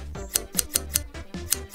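A voice mimics scissors snipping for pretend finger scissors at a hair salon, about seven crisp, evenly spaced clicks and snips played close and alone.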